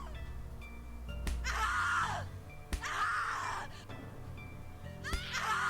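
A woman in The Cat Lady video game screams in three long anguished bursts, each cut off by a sharp slap or thud, over a low droning music bed.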